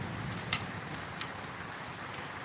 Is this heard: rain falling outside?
yes